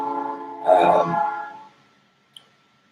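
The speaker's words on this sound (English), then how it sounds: "A train passing." A train passes nearby, its sustained horn-like tone swelling and then fading away over about a second and a half, followed by quiet and one small click.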